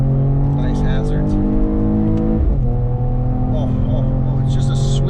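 A 2021 Mercedes E53 AMG Cabriolet revs hard while driving through hills, its engine rising and falling in sustained, loud pulls with a talking voice over it.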